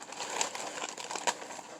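Soft crinkling of a plastic bag being handled, with scattered rustles and a couple of sharper crackles, close and fairly quiet.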